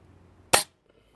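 A Webley Tempest air pistol fires a JSB Exact pellet: a single sharp, snappy crack that decays quickly into near silence.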